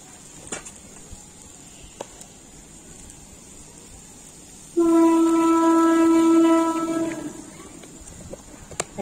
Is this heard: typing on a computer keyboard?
no